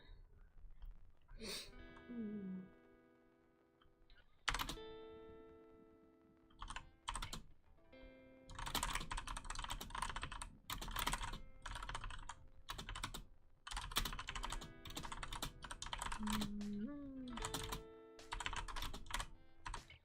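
A computer keyboard is typed on up close for ASMR, with crisp clicky keystrokes in quick bursts and short pauses, and a soft voice speaks now and then.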